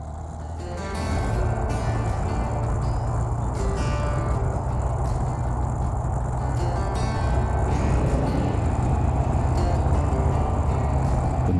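A motorcycle runs at speed along a well-maintained dirt road on the El Camino del Diablo route in Arizona, its engine a steady close drone under heavy wind rush, holding constant throughout after a brief quieter start.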